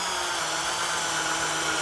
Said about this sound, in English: I'm attaching a 2x4 to the bottom of the blank with some 3-inch screws.